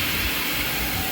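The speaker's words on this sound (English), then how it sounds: "I'll just spray it into the hole there." An aerosol can of refinishing product sprays steadily into a hole in a gun stock, a loud continuous close hiss that cuts off at the very end.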